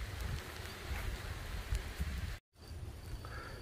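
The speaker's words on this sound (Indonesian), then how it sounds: "Walah, hujan lebat, Kis." Heavy rain pours steadily on an avocado planting site, a dense constant hiss that drops out for a moment before resuming.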